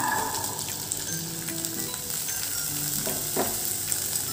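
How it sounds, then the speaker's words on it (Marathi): Chickpeas and green chillies frying in oil over medium heat, a steady close sizzle with a few light stirring scrapes near the end. "मग चणे देखील आपल्याला छान तेलामध्ये परतून घ्यायचे आहे।"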